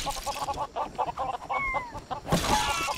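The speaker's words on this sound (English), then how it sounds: "all the chicken in the world" Chickens clucking in the LEGO Worlds video game, a rapid string of short repeated clucks close by, joined by a few higher squawks and a brighter burst of clucking near the end.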